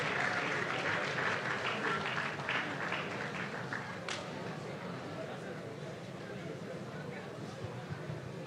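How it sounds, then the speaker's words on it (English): Steady audience applause rings out for the second runner-up team at the DatafestAfrica 2024 data event, dense clapping lasting the full stretch and easing slightly toward the end, with faint voices underneath. "give them a round of applause"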